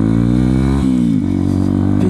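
Motorcycle engine heard up close while riding, a loud harmonic drone that dips briefly and then climbs again as the rider shifts and accelerates, with no talk.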